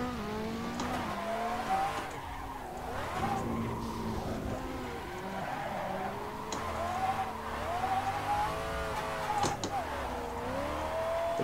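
Simulated drift car in Assetto Corsa on a mountain touge course, a steady engine drone with wavering pitch as revs rise and fall, mixed with continuous tire squeal and skidding.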